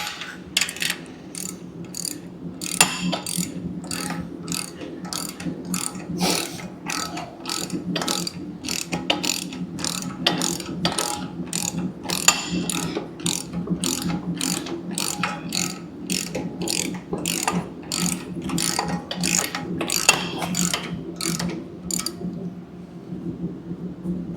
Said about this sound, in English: And I'll go ahead and tighten these up.